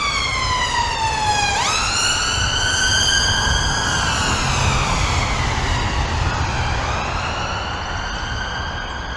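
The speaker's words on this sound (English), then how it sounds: "excuse the sirens as the police come whistling past" Police car sirens sweep past on a city street near a cathedral, a loud wailing tone rising and falling in long glides for the whole stretch over steady traffic rumble.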